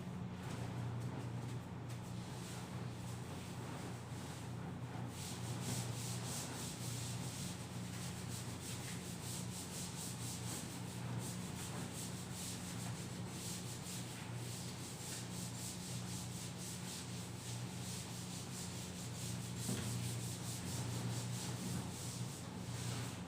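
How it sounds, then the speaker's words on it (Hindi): Writing is being rubbed off a board during a maths class, making a steady, close scrubbing and rubbing sound that continues almost without pause. "चलिए इसको रब कर देते हैं।"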